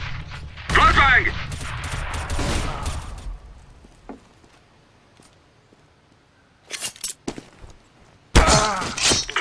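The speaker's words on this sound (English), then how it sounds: "Grenade? Flashbang!" A flashbang grenade bursts in CS:GO gameplay with a sharp, loud blast and a shattering, crackling tail, followed by quieter clicks and a few more abrupt bangs later on.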